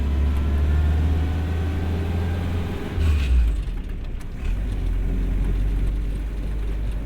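A restored WW2 Willys jeep engine rumbles steadily while driving, with a low continuous drone and a brief louder surge partway through, close and alone without talk.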